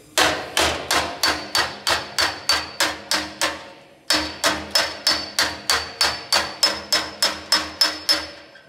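Sheet metal of a car body panel is struck by a hammer in a steady series of sharp, ringing blows, about two per second, with a brief pause midway before the hammering resumes.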